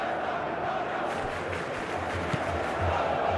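A football stadium crowd at a Galatasaray versus Juventus Champions League match murmurs and stirs impatiently, a dense continuous roar of many voices with scattered shouts, steady throughout.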